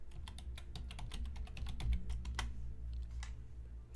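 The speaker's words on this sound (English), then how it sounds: "I'm just going to type that into the chat." Someone typing a message into chat on a computer keyboard, with quick irregular clicks in short bursts, soft and close in a quiet room, and no voice over them.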